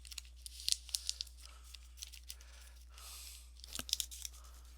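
Scissors cut a wide strip from a recycled paper bag, making quiet close snips and crinkly paper rustles in short irregular bursts, alone, with a faint low hum underneath.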